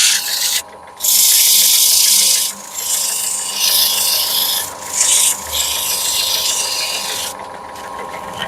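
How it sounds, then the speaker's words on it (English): Steady scraping of sandpaper by hand on a wooden antique pepper grinder in long strokes, pausing briefly between passes, close and fairly loud. "I'll finish sanding because I don't want to bore you with that"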